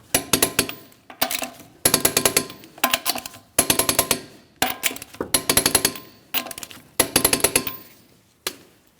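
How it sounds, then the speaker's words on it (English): Torque wrench tightening the wheel lug nuts on a 2008-2016 Chrysler Town & Country to 100 foot-pounds in a crisscross pattern: about eight loud bursts of rapid metallic clicking with short pauses between them, close up and with no talk. "we can go ahead and torque these lug nuts in a crisscross manner to that 100 foot-pounds"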